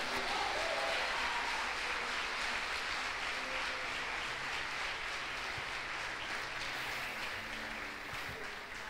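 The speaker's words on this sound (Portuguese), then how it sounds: "Só quem entendeu isso pode aplaudir a Jesus." A church congregation at Igreja Ruach applauds, continuous crowd clapping that sounds somewhat distant and muffled, filling the whole stretch without a break.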